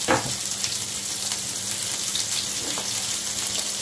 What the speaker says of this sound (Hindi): थोड़ा सा तेल डाल लिया है भूनने के लिए